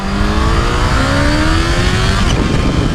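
A Kawasaki H2 motorcycle pulling hard at part throttle, its engine note climbing steadily through rising revs in a loud, continuous roar with faint wind rush, close and uninterrupted by speech.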